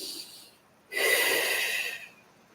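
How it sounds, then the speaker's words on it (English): One deep breath drawn in through the nose, close and clear, lasts about a second in a quiet room and follows a soft earlier exhale. "close your eyes and take a deep breath for me"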